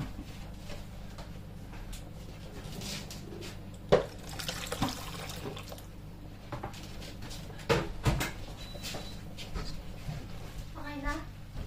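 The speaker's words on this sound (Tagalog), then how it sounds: "So, lalagyan ko pa to ng tubig." Water pours into a pot of cooking mung beans in short bursts with kitchen clatter, under steady background hum and intermittent talk.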